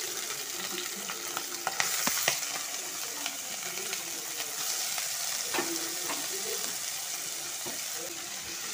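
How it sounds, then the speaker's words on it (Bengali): Prawns fry in hot oil in a wok, producing a continuous bright crackling sizzle with scattered pops and stirring scrapes, steady at moderate loudness and heard without speech. "তেলটা গরম হয়ে গেছে, চলো চিংড়ি মাছগুলো দিয়ে দিই।"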